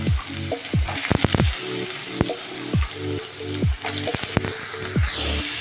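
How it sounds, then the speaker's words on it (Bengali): Diced potatoes and fresh green chilli added to hot oil tempered with dried red chilli and whole cumin, frying close up with steady sizzling broken by sharp spatula clinks and scrapes. "তো আমি এখন কুচিয়ে রাখা আলুগুলো এর মধ্যে দিয়ে দিচ্ছি, আর কাঁচা লঙ্কা।"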